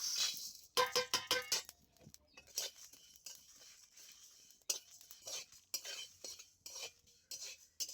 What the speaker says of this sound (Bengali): এবার একটা প্রথমে আমি মশলা ভেজে নেব